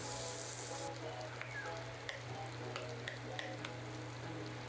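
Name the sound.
butter melting and sizzling in a pan for garlic butter shrimp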